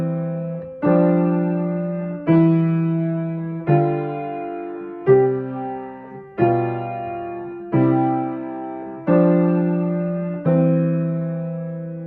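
Piano intervals in half notes with both hands together: eight sustained two-hand chords struck at a steady slow pulse, each ringing and held until the next, close and clear with no talking.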